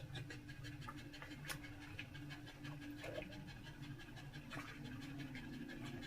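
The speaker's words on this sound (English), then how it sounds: "That dog sounds like a steam train." Rapid, rhythmic dog panting fills the clip, heavy and steady, close by, with a few faint scratching noises.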